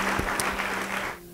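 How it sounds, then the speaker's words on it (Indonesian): A church congregation applauds in a short burst of dense, steady clapping that stops abruptly after about a second, leaving a low hum. "Beri tepuk tangan bagi dia."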